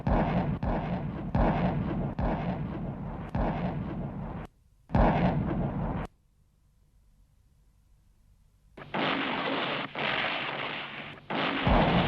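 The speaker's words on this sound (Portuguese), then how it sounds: "uma demolidora barreira de artilharia alemã e disparos de petardos iluminam os céus" Repeated heavy booms of a German artillery barrage in World War II, about a dozen in quick succession, then a lull with low rumble before more blasts resume.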